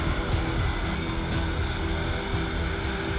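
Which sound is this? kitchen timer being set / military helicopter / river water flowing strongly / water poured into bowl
military helicopter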